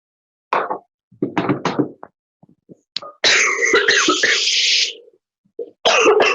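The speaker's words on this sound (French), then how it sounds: "la vapeur d'eau avec tous les éléments, ça fait tousser tout le monde" Several short, harsh coughs come in bursts, then a longer rasping coughing fit, with pauses between and another cough starting at the end, caused by cooking steam in a kitchen.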